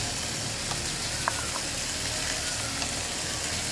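Tomatoes cooking with sautéed onions in a pan for a fish fry gravy, giving a dense, even, close-up sizzle with a few small clicks of a utensil.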